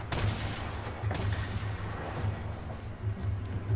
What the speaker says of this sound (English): Oh shoot, he got a grenade launcher.